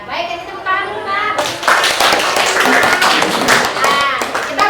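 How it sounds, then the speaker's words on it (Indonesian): Students in a classroom clap their hands together, a brisk burst of close claps that starts after a moment of talk and continues over children's chatter and voices. "kita tepuk tangan dulu, Pak."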